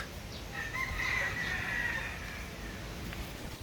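Gamefowl chickens on a game farm in Agusan del Sur, with a rooster's crow rising faintly over a steady hiss of outdoor background noise, distant and soft.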